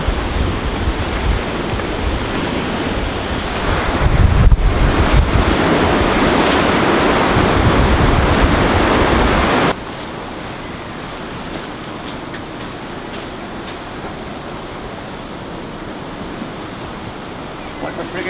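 Waves breaking on a wild coast strewn with jagged rocks, a loud roaring surf mixed with strong wind buffeting the microphone, surging midway and then dropping to a quieter wash with a faint high whine.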